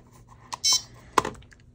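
A timer beeps once, a short high electronic tone amid quiet clicks and taps from a tabletop work setting.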